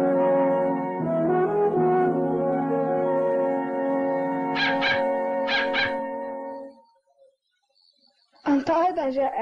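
A cartoon dog barks in two short bursts and then whimpers after a brief pause, heard over a steady tonal background.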